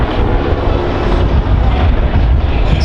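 Vintage aircraft such as a Morane-Saulnier MS.505 Criquet and a Fieseler Fi 156 Storch at the Air Legend 2024 airshow, a loud, steady engine drone with broad rumbling noise that stays constant throughout, no voices.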